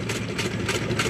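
A small air-cooled one-horsepower gas engine running at a tractor and gas engine show, a steady fast chugging idle close to the microphone.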